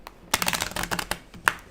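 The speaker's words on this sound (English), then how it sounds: "trying to shuffle more softly." Tarot cards being shuffled softly by hand, a run of quick papery riffling clicks and flutters with a sharper snap near the end, close and moderately loud with no talking.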